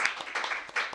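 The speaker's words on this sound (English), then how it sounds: "Yes, another round of applause." An audience at a small live music session claps after a performance, scattered and fairly faint, a brief burst of hand claps.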